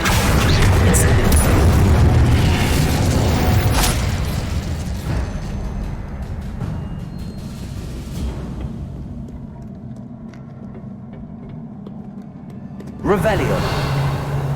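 Incendio fire spell cast in Hogwarts Legacy: a heavy whooshing boom with a rumbling roar that slowly fades, followed later by a second sudden burst, with a voice calling out over it.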